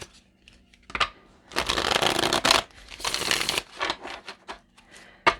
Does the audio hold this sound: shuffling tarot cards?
yes